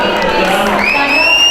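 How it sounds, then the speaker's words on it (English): An audience at a Diwali celebration in São Paulo claps and cheers together, a loud, dense wash of crowd noise with a few whoops rising above it. "A big hand of applause, please."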